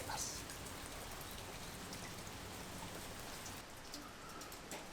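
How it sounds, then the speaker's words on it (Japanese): Light autumn shigure drizzle falls on a Japanese garden path before a house entrance, a soft, steady, even patter of raindrops throughout, with no talk. "今日はしぐれの雨が降っています。"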